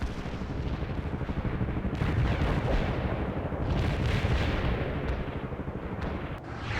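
Artillery fire support rumbles through a World in Conflict battle, a continuous barrage of deep booms and gunfire that rolls at a steady loud level, with a few sharper cracks toward the end.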